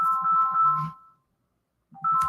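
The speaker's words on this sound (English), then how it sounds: "we have a phone call." A phone ringtone plays an incoming call as two repeating bursts of a bright electronic melody, clear and close, separated by a second of silence.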